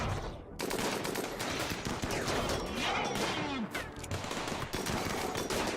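Rapid gunfire rattles through a RimWorld colony battle, dense overlapping shots and bursts filling the whole stretch at steady loudness with no clear pauses, mixed with game sounds.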